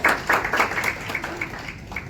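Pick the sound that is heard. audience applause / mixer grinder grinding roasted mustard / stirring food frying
audience applause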